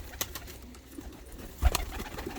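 Domestic pigeons in a show or breeding setting give soft, low coos, faint and intermittent against quiet room noise, with a few short bird sounds between them.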